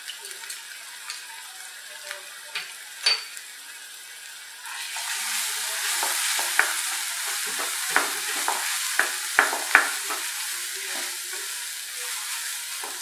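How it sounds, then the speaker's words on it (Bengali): Chilli powder, turmeric and Kashmiri chilli being sautéed in a pan for paneer masala, a quiet sizzle with scattered taps that jumps to a louder, fuller frying hiss midway, with repeated stirring knocks and no talk. "খুব ভালো করে এটা কষে তারপর আরও বাকি মশলা দেওয়ার আছে কিছু"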